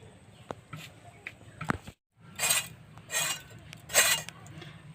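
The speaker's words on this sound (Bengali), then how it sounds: "ছেচিঙ্গা আমি এখন কেটে নিচ্ছি" A knife cuts snake gourd on a board in a home kitchen, giving a few light taps and then three crisp, rasping slicing strokes close by, with short pauses between them.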